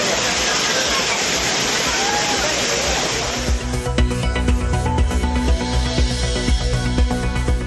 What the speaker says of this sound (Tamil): குற்றாலத்தில் பேரருவி ஐந்தருவிகளில் ஜில்லென கொட்டும் தண்ணீர்.